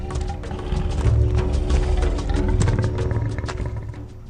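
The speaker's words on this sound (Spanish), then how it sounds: "El mayor de ellos, el gorgonópsido," Reconstructed roar of a gorgonopsid, a large Permian predator, sounding as a deep, loud, sustained growling roar with rough rumbling texture that swells and fades over several seconds, alone and close.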